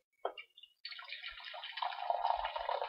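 Hot water poured into a coffee cup to dilute coffee, a steady splashing pour that builds and fills after a few brief initial drips and trickles, close and alone with no talk.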